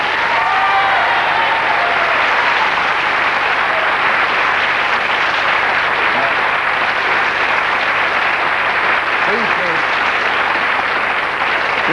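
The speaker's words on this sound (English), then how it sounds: "a round of applause for our marvellous Melanie" A television studio audience gives sustained, dense applause on a late-1980s British chat show, the clapping holding a steady level throughout with no talk over it.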